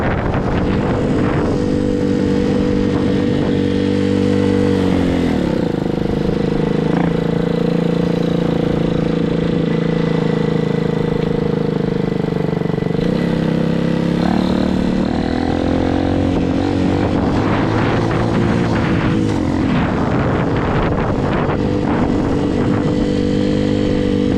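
Hawk 250cc motorcycle engine running on half choke with a suspect carburetor, a loud continuous close drone whose pitch dips and rises unevenly as the revs shift, heavy wind buffeting over it.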